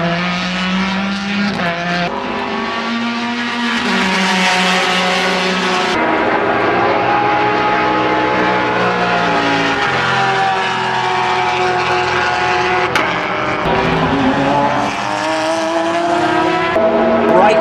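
Porsche race cars with new, larger 4-liter engines roar past at Daytona in a sustained, loud, high-revving engine drone that shifts pitch as the cars pass, with no pause throughout.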